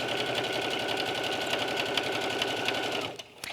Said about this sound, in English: I'm going to stop stitching exactly a 1/2 inch from the corner.